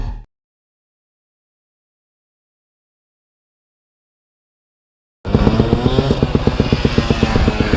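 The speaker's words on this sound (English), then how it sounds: "the boys got the dirt bikes out today" Dirt bikes start up loud and close after several seconds of near silence, their engines revving in a rough, pulsing drone that runs to the end.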